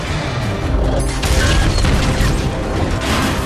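A massive explosion tears through the Deepwater Horizon offshore drilling rig in a film after a jammed engine blows, a loud, sustained roar of booming rumble and crashing debris filling the whole moment.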